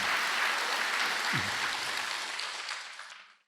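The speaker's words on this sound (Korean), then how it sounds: "뜨거운 박수로 환영해 주시기 부탁드립니다" Audience applause welcomes the next speaker at a Diamond Sutra lecture session, a dense steady clapping that fills the space and fades out near the end.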